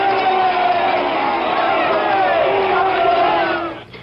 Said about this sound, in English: Gerald Ford heard himself booed for the first time as president